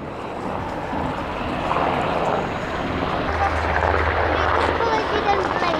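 A Slovak Air Force UH-60M Black Hawk helicopter flies a dynamic display at an air show, a steady loud rotor and engine roar that holds throughout while an announcer commentates over it.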